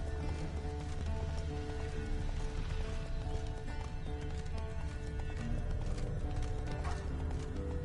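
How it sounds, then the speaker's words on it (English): Horse hooves galloping in The Witcher 3: Wild Hunt make rapid, continuous clip-clop beats, loud and close, with a whinny and game sounds mixed in over a dense background. "Whoa there, Roach"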